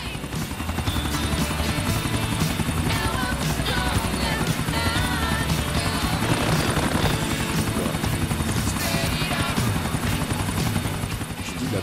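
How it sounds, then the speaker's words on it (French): A helicopter in GTA IV on PC gives a loud, continuous rotor drone with a buzzing engine whine that holds steady throughout. "c'est une horreur ces hélicoptères à conduire"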